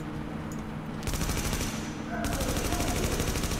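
An enemy turret in the shooter game The Division fires rapid, continuous automatic bursts, loud and close, in two long volleys separated by a brief lull.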